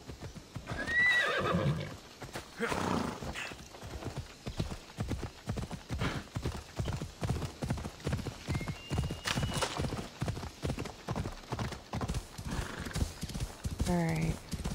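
Horse hooves clip-clop steadily through a stretch of Assassin's Creed Odyssey gameplay, with a whinny at the start and another neigh near the end, while someone talks over much of it.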